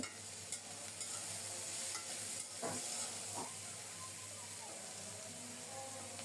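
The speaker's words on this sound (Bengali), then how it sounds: "কাঁচামরিচ আর বরবটি ঢেকে ঢেকে লবণ দিয়ে কিছুক্ষণ ভেজে নেব" Yardlong beans, green chilies and garlic frying with salt in a wok give a steady close sizzle, with a few brief stirring scrapes rising above the constant hiss.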